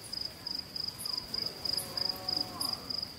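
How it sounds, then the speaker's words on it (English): Crickets chirp in steady, evenly spaced pulses, a thin high trill repeating about three times a second against a quiet outdoor hush. "Actually, I'm recording crickets."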